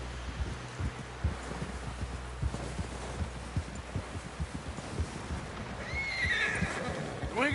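In the video game Red Dead Redemption, a horse's hooves clop in a steady rhythm under background rumble, then the horse lets out a loud, rising whinny near the end.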